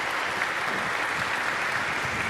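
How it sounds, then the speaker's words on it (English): A concert audience applauds the men's chorus, a steady, fairly faint wash of clapping with no voices on top. "Let's give them another round of applause,"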